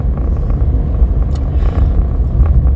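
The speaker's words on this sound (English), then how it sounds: "Let's see a car that goes by." A car drives past on a road, its engine and tyre rumble rising and fading as it goes by, fairly close and steady, with no talking.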